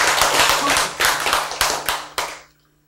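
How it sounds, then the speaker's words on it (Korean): A congregation claps during a Bible lecture on Genesis, a burst of dense applause with several sharp accented claps near the end, then stopping abruptly into near silence. "박수!"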